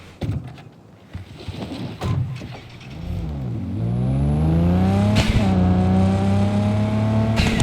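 Car engine in Cyberpunk 2077 revving up, pitch climbing and holding as it accelerates, after a few short thuds and clicks.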